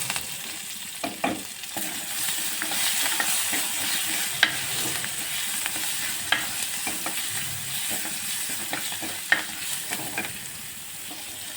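Curry leaves crackling and sizzling in hot oil while cooking a spinach kadaiyal, a steady frying hiss with scattered sharp pops and occasional stirring, close and moderately loud with no talking.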